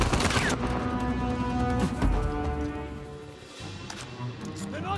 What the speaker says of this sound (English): I'm shooting him in the face with a shotgun.